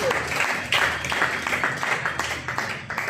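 A church congregation applauds continuously, a dense, moderately loud patter of many hands clapping at once for the whole stretch.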